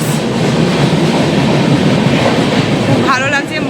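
A passenger train rumbles loudly and continuously along the rails at close range near Balasore, with a dense rolling roar and faint clatter, then a brief squeal near the end.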